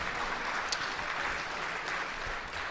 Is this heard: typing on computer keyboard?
no